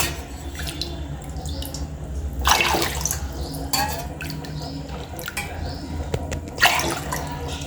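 Water splashes and pours in a few separate bursts into a cooking pot, with quiet dripping and faint background noise between pours.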